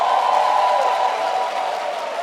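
At a university graduation ceremony, a large audience of families claps together, a dense, sustained wash of applause filling the hall, loud and steady with a slight fade toward the end.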